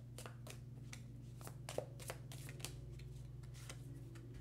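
Tea leaf oracle cards being shuffled by hand in a steady run of soft riffling flutters over a constant low hum, with no talking.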